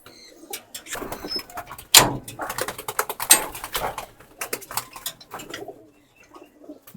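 Recovering sick pigeons coo and flutter close by, with repeated soft throaty calls, wing flaps and occasional clattering thumps.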